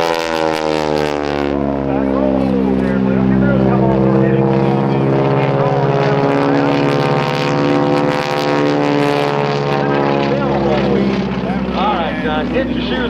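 At the 2009 New Garden Airshow, a propeller aerobatic airplane flies a 16-point hesitation roll, its engine droning loudly with a rising and falling pitch as it passes close overhead.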